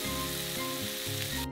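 Sausages frying in a pan beside a camp-style Camembert fondue: a brief, even sizzle, fairly quiet, with background music underneath and no voices.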